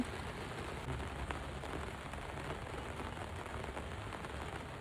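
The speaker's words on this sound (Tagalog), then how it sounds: "Grabe, ang lamig na. Umulan pa." Rain falls steadily on the surfaces nearby on a cold evening, a dense and even hiss of drops with no voices over it.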